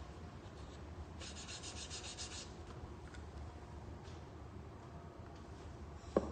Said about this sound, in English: Come in with your cloth. And you're just going to wipe down those edges.